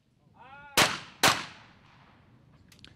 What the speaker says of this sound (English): His teammate Kirill Fokiv steps up now to shoot his pair.